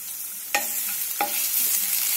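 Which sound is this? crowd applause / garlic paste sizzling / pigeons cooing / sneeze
garlic paste sizzling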